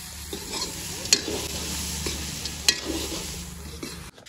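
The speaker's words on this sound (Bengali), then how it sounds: "এনেকৈ মাংস ভাজি বনি আছে মচলা চচলা" Local pork frying in a pan with spices sizzles in a continuous, bright hiss, close up, broken by a couple of sharp clicks from a utensil.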